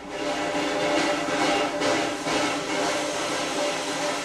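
A loud, sustained steam whistle blows steadily throughout, with a constant hissing roar of steam beneath it.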